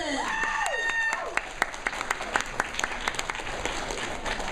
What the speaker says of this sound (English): Let's give another warm round of applause for Kitty Kilton.